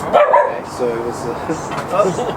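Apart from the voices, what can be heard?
dog barking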